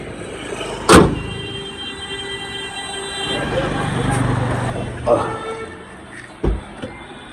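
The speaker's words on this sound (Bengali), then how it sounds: "চলো বন্ধুরা, গাড়িটা একটু চালানো যাক" A Hyundai Aura with a four-cylinder engine pulls away in Kolkata, its low engine hum swelling midway, with sharp clunks and knocks from the cabin and traffic faintly around, under a murmur of voices.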